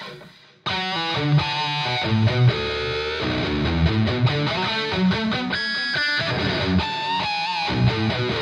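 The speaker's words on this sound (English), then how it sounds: "Let's turn on the delay." Electric guitar through the Aurora DSP pedal's lead channel with distortion, delay and reverb, playing a loud, clear run of sustained, echoing notes and chords that trail into repeats, with no talking.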